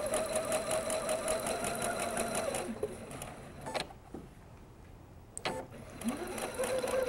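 A sewing machine stitches quilt pieces in a steady close whir for roughly three seconds, then stops, followed by a few sharp clicks and a brief restart near the end.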